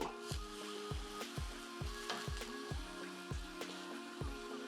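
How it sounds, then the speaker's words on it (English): Aubergine slices frying in a pan give a steady soft sizzle, punctuated by a regular series of light ticking pops spaced about half a second apart, close and quiet with no talking. "as these aubergines are cooking"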